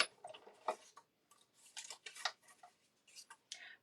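A hand-cranked die-cutting machine for paper crafts, giving quiet, irregular clicking and ratcheting ticks in short bursts as the crank is turned.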